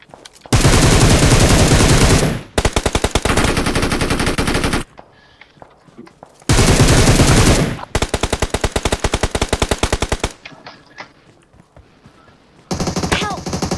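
Automatic gunfire in PUBG Mobile, loud rapid bursts and long sustained strings of shots repeating across the stretch, separated by brief quieter gaps with faint game ambience.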